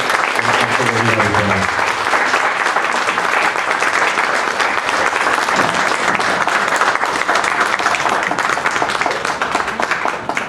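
Loud, sustained applause fills a school conference hall. Clapping runs steadily for about ten seconds, and a few voices are briefly audible at the start.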